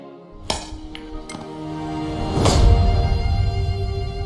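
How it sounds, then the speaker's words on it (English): Metallic clinks and ringing strikes as a big sledgehammer hits iron wedges to split stone in Age of Empires IV, a few sharp impacts over a swelling low rumble. "I'm ready to split it open by hitting very hard on each wedge with a big sledgehammer"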